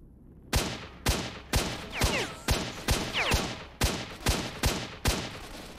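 Single gunshots in S.T.A.L.K.E.R.: Shadow of Chernobyl crack out at a steady pace, about ten sharp, loud reports roughly half a second apart, each with a short echoing tail and no talking.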